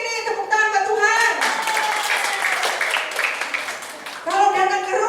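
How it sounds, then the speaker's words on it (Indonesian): A church congregation bursts into applause for a few seconds, framed by someone speaking loudly into a microphone before and after. "tepuk tangan buat Tuhan"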